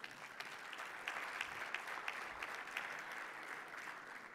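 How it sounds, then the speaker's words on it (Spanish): Audience applause at a conference on railway and multimodal transport priorities, a steady wash of clapping from a fairly distant crowd, faint and even throughout with no talk over it. "Damos un aplauso al doctor"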